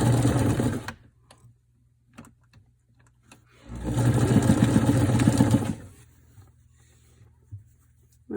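Sewing machine stitching fabric strips chained one after another for mask ties, two bursts of fast mechanical whirring separated by a quiet pause with small handling clicks.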